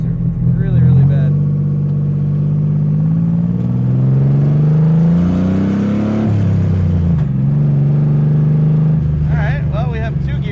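Datsun car engine droning and rising in pitch as it drives, with a heavy, truck-like tone; a steady loud rumble runs throughout, with a brief lower dip partway through.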